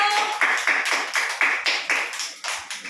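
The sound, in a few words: hand clapping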